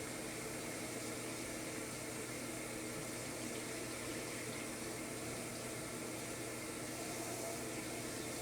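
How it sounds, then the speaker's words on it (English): Running tap water pours steadily into a kitchen sink as hands are washed, a constant faint hiss that stays even throughout with no voices. "I'm gonna wash my hands"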